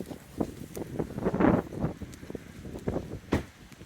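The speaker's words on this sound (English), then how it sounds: "A little windy out here." Gusty wind buffets the microphone outdoors at an electric-car charging stop, low rumbling bursts swelling and fading with a few soft rustles and taps.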